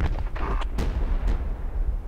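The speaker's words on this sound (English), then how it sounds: "Explosions." Explosions in the Project Reality military game, a few loud booming blasts over a steady low rumble of battlefield noise, fairly close.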